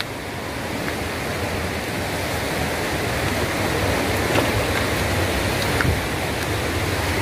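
Waterfall at Balneário São José, a loud, continuous broadband rush of falling water heard up close, steady and slowly swelling, with no voices.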